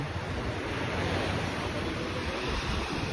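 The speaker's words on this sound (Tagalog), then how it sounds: "Pero ngayon umaaraw na at hindi na masyadong malakas ang alon." Ocean waves washing onto the shore at Boracay in calming weather after a typhoon: a steady, broad roar of surf mixed with wind noise, continuous and fairly loud, with no voices.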